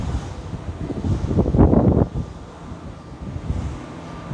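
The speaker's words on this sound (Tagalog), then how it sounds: "Malakas kasi yung hangin." Strong wind gusting across the microphone on the way to a big Buddha site, a rough broadband rumble that swells loudest around the middle, then settles to a steady lower buffeting with no talk.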